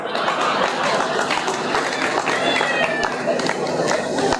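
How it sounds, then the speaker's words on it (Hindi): Audience at a Hindi comedy poetry show breaking into dense, continuous applause, many hands clapping loudly and steadily throughout with some crowd noise. "ताली बजाओ, ताली ठेकलिए को ताली बजाने के लिए"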